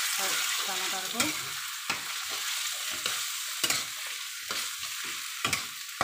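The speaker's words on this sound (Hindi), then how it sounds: "तो हम टमाटर डाल के अच्छे से मिक्स करेंगे।" Tomatoes are stirred into browned onions frying in a pan, a continuous soft sizzle broken by periodic scraping and clacks of the spoon against the pan.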